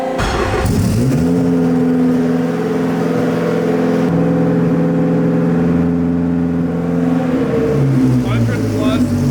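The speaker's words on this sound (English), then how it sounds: "The fuel pump priming sound is something I don't think I'll ever get over." A Honda Civic converted to all-wheel drive primes its fuel pump, giving a loud, steady droning whine with stable layered tones that hold for several seconds and shift slightly in pitch near the end.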